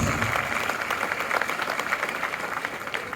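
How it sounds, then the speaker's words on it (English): Congregation at a Catholic Mass for a school feast day applauding steadily, a dense even wash of many hands clapping indoors that holds for the full length without letting up. "Can you give them a thunderous round of applause?"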